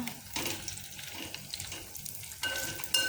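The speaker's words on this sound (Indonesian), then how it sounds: "ini saya baliknya pakai sendok besi." Chicken nuggets sizzle and fry in a pan while an iron spoon scrapes and stirs to flip them, with a steady hiss broken by a few brighter clinks.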